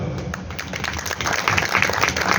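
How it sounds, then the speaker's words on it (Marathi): Audience applause at a Marathi poetry gathering held during a book festival, steady dense clapping from a sizeable crowd that grows slightly louder toward the end. "आणि एकदा टाळ्या वाजवा"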